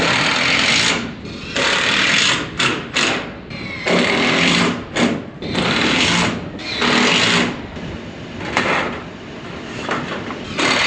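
A power driver backs screws out of tin roofing on a hay barn, giving repeated loud whirring bursts of a second or two separated by short pauses, close up and without talk.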